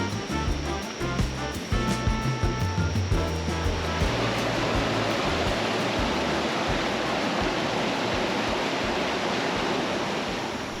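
Rushing river water in the Khao Sok jungle of Thailand, a steady broadband wash with splashing while swimming, loud and close, with some brief low voice-like sounds near the start before the water noise dominates.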